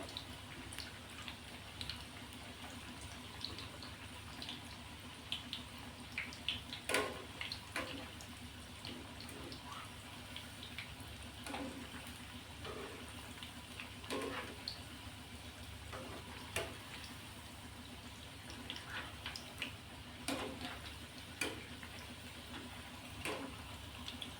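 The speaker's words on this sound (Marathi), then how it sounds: "आपण हे छान असे दुसऱ्या साईडने तळून घेणार आहोत पलटून घेऊन सर्व बाजूने व्यवस्थित सारखे तळल्या जातील असे तळून घ्यायचे" Potato and spinach bhaji deep frying in hot oil, turned to crisp on all sides; a faint, steady bubbling sizzle with scattered small pops and crackles throughout, heard at a distance.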